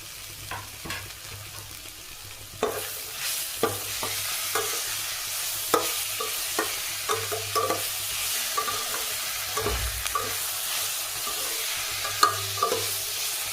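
Onions and tomatoes being sautéed in a pan for a chapati side dish sizzle steadily throughout, with repeated clicks and scrapes of a spoon stirring them, close and fairly loud, and no talking.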